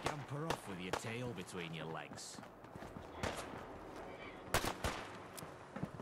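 Revolver gunfire in the post-apocalyptic game Fallout London: a few sharp, loud shots stand out at irregular intervals among other game sounds, with someone talking over much of it.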